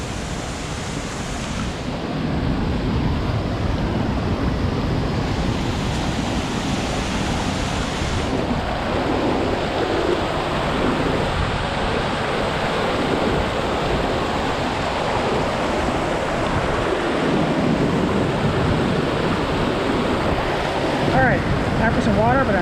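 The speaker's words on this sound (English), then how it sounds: "So I'm now at Cascade Falls." Cascade Falls in Rocky Mountain National Park roars as a continuous, loud rush of falling water heard close by, with wind buffeting the microphone throughout.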